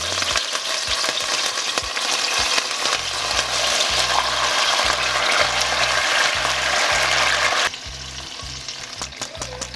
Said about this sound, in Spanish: Volvemos a encender la cazuela y agregamos el chile.